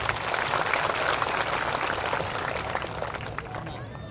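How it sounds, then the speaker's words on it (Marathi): Crowd applause at an outdoor flag-hoisting event for World Dhamma Flag Day in Parbhani, a loud dense wash of clapping from many people that holds steady, then eases slightly. "त्यांच्यासाठी एकदा जोरदार टाळ्या होत्या."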